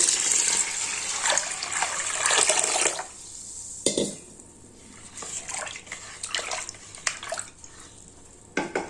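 A steady gush of fresh water poured onto rice and black gram set to soak, for a few seconds, then quieter sloshing and splashing, close by with no talking.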